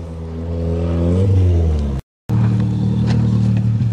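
Toyota GTS car engine droning and rising in a rev over about two seconds, then cutting out briefly before returning at a steady, loud, close pitch.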